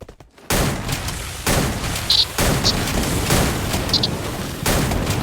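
Video game gunfire crackles in dense, sustained volleys, loud and close, with brief pauses between bursts and a few small metallic pings over the din.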